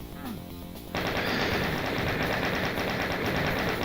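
Rapid, sustained automatic gunfire from enemies in a shooter game erupts abruptly after a short quieter moment, then rattles on loudly and densely for several seconds.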